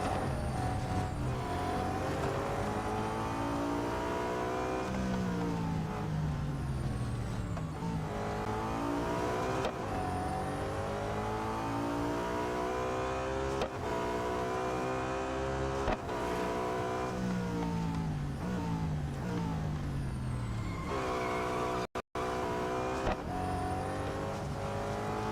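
A race car engine in the Real Racing 3 video game drones and revs continuously at high pitch, shifting up and down through gears, loud and steady with no talk.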